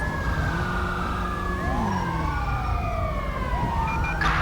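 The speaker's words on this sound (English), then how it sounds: "There comes the ambulance." A wailing ambulance siren in GTA5 sweeps up and down continuously, loud and close, with overlapping siren tones throughout.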